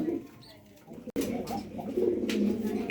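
Pigeons coo close by, low and soft, with a short break partway through before the rolling calls start again.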